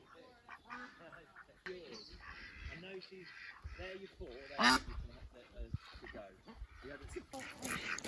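Ducks quack and honk in a noisy close-up flock, with overlapping calls throughout and a person talking intermittently among them.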